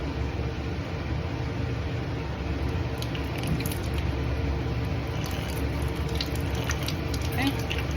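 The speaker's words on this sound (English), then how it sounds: "You also need a water source to rinse off in between steps. So I'm going to turn that on right now." Lab tap used for rinsing during a Gram stain runs steadily, a constant soft hiss of flowing water with a few small drips and clicks on top.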